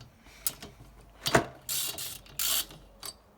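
Ratchet loosening cylinder head bolts on an engine, a few sharp clicks and two longer buzzing ratchet runs, close and moderately loud in a quiet room.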